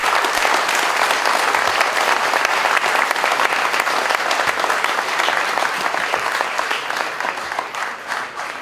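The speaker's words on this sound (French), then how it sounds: "je voudrais vous demander de les applaudir très fort" Sustained applause from a large audience at a French opening ceremony, a dense, steady clapping roar that stays loud for the whole stretch and tapers slightly toward the end.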